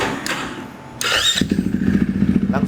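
A motorcycle engine is started: a brief whirring crank, then the engine catches with a loud burst and settles into a fast, pulsing idle, close to the listener with no talking.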